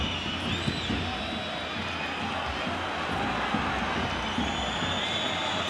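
Valencia football crowd in a stadium, a continuous distant roar of murmuring and scattered shouts with restless whistles, steady and broad throughout.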